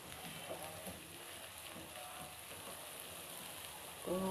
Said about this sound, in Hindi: अब यहाँ पे इसको हल्का सा हम फ्राई कर लेंगे।